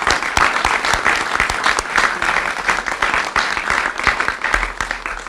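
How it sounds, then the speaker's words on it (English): A crowd at Kentucky Governor Beshear's event on rebuilding eastern Kentucky breaks into loud, sustained applause, many hands clapping with sharp individual claps standing out close by throughout. "So please join me once again for a big round of applause."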